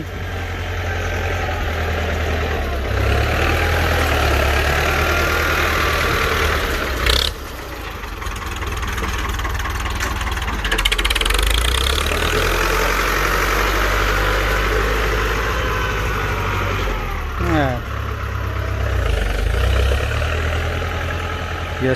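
A Ford 5610 tractor engine idles during a test, a loud, close, steady low rumble that runs throughout with slight dips and no talking.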